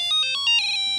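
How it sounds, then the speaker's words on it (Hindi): A phone rings at night with a short electronic ringtone, several bright tonal beeps in quick succession, loud and close. "रात को कौन फोन कर रहा है यार?"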